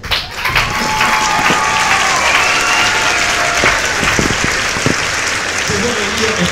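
A church congregation applauds in sustained, dense clapping across the whole stretch, loud and close, with a voice speaking over the applause.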